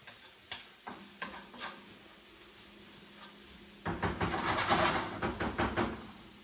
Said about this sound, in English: So while we have our onions cooking